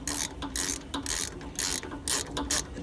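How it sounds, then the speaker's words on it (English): A hand ratchet tightens the hydraulic filter housing bolts on a Gehl Z35 skid steer, with about six quick, close clicking bursts in a regular back-and-forth rhythm. "You just only give it a couple cranks on each one."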